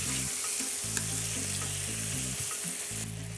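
Veal steak sizzling in butter in a pan, a steady close hiss running the whole way beneath background music.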